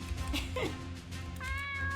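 A cat in an indie video game gives a couple of short meows in quick succession, followed by a higher, drawn-out mew over a low background hum.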